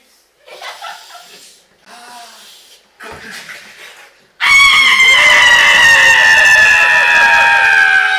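A performer at an improv show imitates a goose, with a few short breathy vocal bursts, then a loud, sustained, honking squawk that carries to the end.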